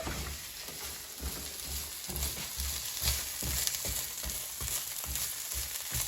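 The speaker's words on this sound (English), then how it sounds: "So now you can hear the oil is sizzling" Oil sizzles steadily in a pan while celery sautés over medium-high heat, a dense crackling hiss with faint stirring scrapes, close and continuous.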